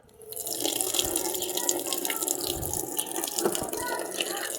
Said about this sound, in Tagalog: di-drain ko yung water dito sa baba.